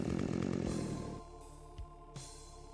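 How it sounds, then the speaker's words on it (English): Chainsaw revving in the FreeDoom first-person shooter, a buzzing motor drone that cuts off after about a second, followed by a couple of short game sound effects. "We got our chainsaw."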